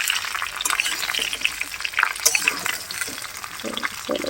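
Mango pieces go into cumin seeds frying in hot oil, giving a busy crackle and sizzle with scattered pops and stirring scrapes, close and continuous.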